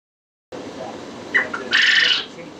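Several short, bright chirping quail calls over a steady background hiss, ending in a louder, sustained call.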